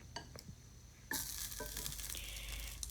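White parts of green onion drop into a pan of hot oil and start frying, a sudden loud sizzle that holds steady after a few soft utensil taps, close by with no voices.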